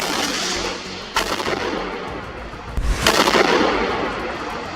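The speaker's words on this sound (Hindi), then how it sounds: "सामने से एक बम या रॉकेट आकर गिरता है, जिसमें जोरदार धमाका होता है" Loud blasts and crackling bangs boom in quick succession, a heavy explosion near the end, from a rocket hitting an IDF tank in Khan Yunis, Gaza, rumbling over noisy background.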